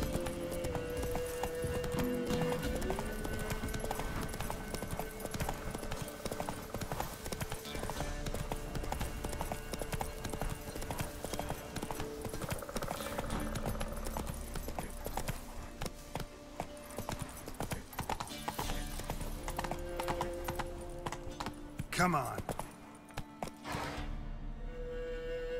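Roach the horse galloping in The Witcher 3: Hearts of Stone, with steady rhythmic clip-clop hoofbeats and an occasional whinny, heard over game music and ambience for a long stretch.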